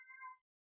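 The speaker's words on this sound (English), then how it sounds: "if you hear in the background, my cat is going to join at some point and say hi." A pet cat gives one clear, drawn-out meow that rises and falls, fairly close and alone against a quiet room, followed by a brief soft noise after a short pause.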